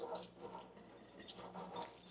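Water pours gently onto potted plants such as succulents being treated for spider mites, a soft continuous splashing and trickling like a tap running, steady and close throughout.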